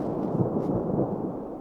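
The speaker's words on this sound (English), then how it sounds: "This thunder is pretty scary sounding" Thunder rumbling during a storm in New Mexico, a deep, continuous low roll that swells and fades, fairly loud and heard alone.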